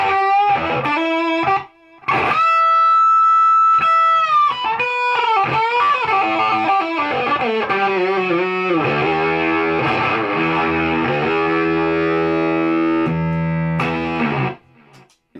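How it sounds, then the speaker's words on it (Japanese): Electric guitar through Fuzz Face and Octavia pedals engaged together, a fuzzy, octave-doubled tone: a few sustained notes, a brief pause, then busier single-note lines and bends, loud and close, ending abruptly after about fourteen seconds. "ファズフェイスとオクタビア両方同時でも鳴らせます"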